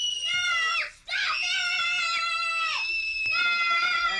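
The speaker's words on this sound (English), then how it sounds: "There's going to be a three-way screaming match." Three people scream together on a film set, giving loud, overlapping high-pitched shrieks. The screams break off briefly, then resume in several sustained bursts that waver and slide in pitch.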